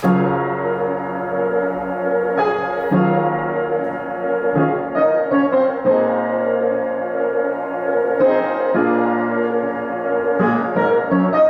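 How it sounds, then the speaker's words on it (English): Layered piano sample with Output plugin processing builds a dense, sustained harmonic bed of shifting chords, steady and fairly loud, changing every few seconds with no voices. "the plugin by Output along with the original piano sample together sounds like"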